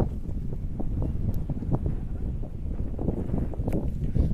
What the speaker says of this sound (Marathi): वारं सध्या खूप आहे ना